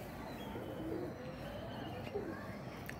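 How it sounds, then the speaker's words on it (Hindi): Pigeons on a rooftop loft coo softly in a few faint, low calls over steady background hiss and noise. "ये कबूतर है जी माशाल्लाह"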